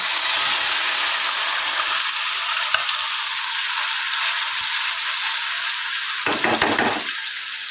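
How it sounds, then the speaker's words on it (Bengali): A paste of ground flat beans with coriander leaves, green chilli and garlic fries in a pan, giving a steady, close hiss and sizzle, with a brief drop in the sizzle near the end before it resumes. "এর মধ্যে এবার এই বাটা শিম, ধনেপাতা, কাঁচা লঙ্কা, রসুন দিয়ে যে বাটা পেস্টটা আছে সেটা আমরা"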